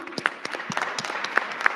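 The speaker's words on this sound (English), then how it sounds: "Big round of applause for ma'am" Scattered applause at a youth parliament closing ceremony, a few distinct claps close by over a thin crowd patter, brief and uneven.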